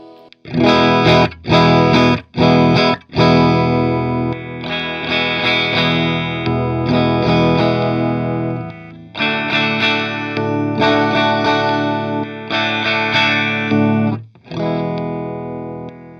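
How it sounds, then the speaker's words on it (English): Boosted 1997 Fender Stratocaster Deluxe with its S1 boost switch engaged, louder and slightly driven, strummed chords and sustained phrases with a few choppy stabs at the start, close and prominent. "So that S1 switch acts as a boost"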